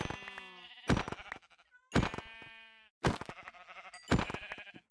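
Sheep in the Minecraft video game bleat four times in quick succession, each call a loud, clear, wavering cry separated by short pauses, with no talking.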